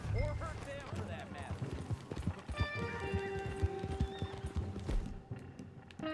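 A horse in the video game Red Dead Redemption 2 clip-clops and gives a whinny, hoofbeats thudding in quick irregular rhythm under voices and game sounds, fading near the end.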